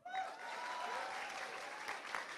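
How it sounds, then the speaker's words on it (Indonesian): A crowd at a talk-show event applauds in a steady, fairly faint wash of clapping, with a voice briefly audible at the start. "Yang pekerja kreatif boleh tepuk tangan?"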